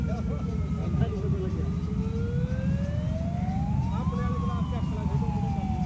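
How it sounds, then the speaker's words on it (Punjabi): A fire brigade vehicle's siren wails in slow rising and falling sweeps in a rural village, moderately distant, over a heavy rumble of engine and road noise. "ਫਾਇਰ ਬ੍ਰਿਗੇਡ ਆਉਂਦੀ ਆ ਭੱਜੀ"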